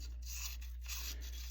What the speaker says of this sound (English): Just got a little sanding stone here.